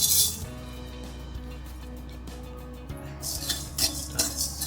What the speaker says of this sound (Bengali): গোটা মশলাগুলো এবার আমি ভেজে নেব।